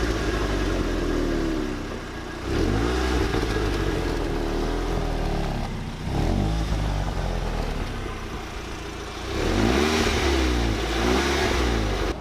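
A Volkswagen Golf GTI Mk6 Edition 35 engine idles and revs in repeated bursts through its restricted stock exhaust, the note muffled and throaty, with the engine slowing back between revs.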